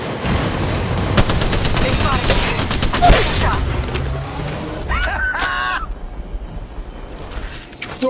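Rapid automatic gunfire bursts in Apex Legends Mobile, loud and dense through the first half with sharp repeated shots, then fading into quieter game ambience with a synthetic tonal effect.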